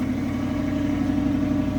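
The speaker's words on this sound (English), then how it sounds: "We gotta get in there and hit that gas a couple times, BK." A car engine in sport mode runs steadily with a low, even hum that is close and moderately loud, with no clear rev peaks in the short stretch.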